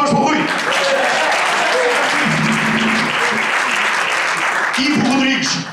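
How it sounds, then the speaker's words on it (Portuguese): A crowd at a jazz concert breaks into sustained, loud applause lasting several seconds, with a voice speaking briefly before and after. "Uma salva de palmas para o Rui."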